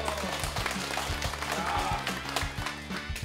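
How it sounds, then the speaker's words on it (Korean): Audience applause at a village yut-nori festival in Korea, quick claps over a loud rhythmic music bed with crowd noise, fairly close and continuous. "박수."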